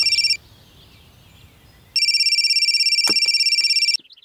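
An electronic telephone ringtone trills in two bursts with a short pause between, loud and close, with a brief clatter near the end.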